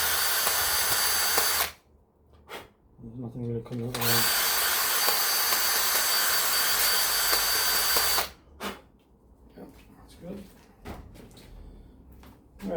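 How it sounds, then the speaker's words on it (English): Two long bursts of a power drill whirring loudly as it bores leftover epoxy out of a golf driver head, with brief pauses between them and someone speaking quietly in the gaps. "I'm just going to use a drill just to get any of the epoxy out that's left inside of here."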